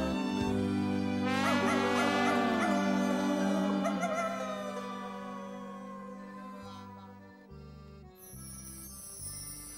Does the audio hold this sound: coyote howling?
yes